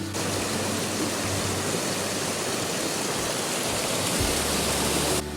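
Tom Ghyll, a stream running off a dammed tarn in the Lake District, rushes below its waterfalls in a constant, dense broadband roar that stays even and close for the whole stretch.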